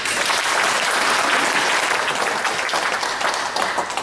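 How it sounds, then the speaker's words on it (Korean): An audience at a lecture event bursts into loud, sustained applause, many hands clapping together in a thick, even roar that begins to thin slightly toward the end. "큰 박수로 답해 주십니다."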